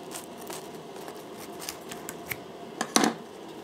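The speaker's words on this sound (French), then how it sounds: "Quand on coupe directement au ciseau, ça écrase la mie." Scissors crunch through the crust of a Neapolitan pizza baked in an Effeuno P134H 500 oven, a few light snips followed by one louder crisp cut near the end.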